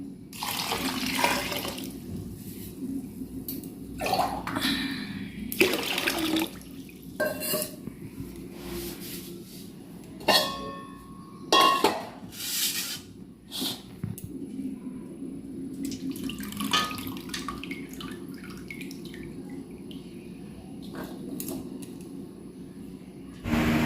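Water is poured from a pot over cooked rice while it is drained into a bowl: a nearby, uneven splashing and trickling with short louder gushes and faint clinks throughout.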